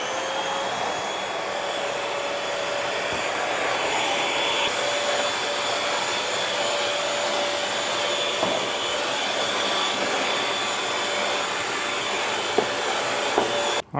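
Bissell Featherweight stick vacuum cleaner running: a loud, steady high-pitched motor whine and airflow hiss that continues unbroken for the whole stretch, then cuts off abruptly at the end.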